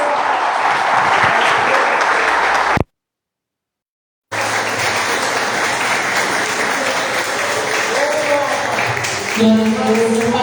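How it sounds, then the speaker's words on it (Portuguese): A church congregation claps in praise during a worship service, loud sustained applause filling the room, briefly cut off, then resuming steadily with a faint voice near the end. "Que as palmas louvem ao Senhor Jesus."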